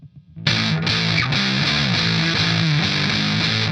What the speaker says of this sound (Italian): parleremo di distorsione, che forse è l'effetto per chitarra più diffuso